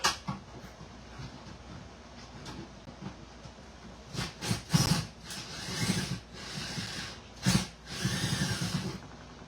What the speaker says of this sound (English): We'll see if my drill can get in there.